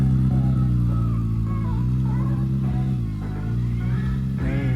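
Kawasaki ZX-6R sport motorcycle being ridden nearby, a steady loud engine drone with harmonic whine rising and falling as the revs shift, continuous throughout.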